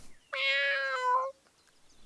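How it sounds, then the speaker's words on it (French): A cat stuck up in a tree gives one clear, drawn-out meow of about a second, close and distinct against near silence. "Le miaulement se fait de nouveau entendre, mais il semble venir de l'arbre."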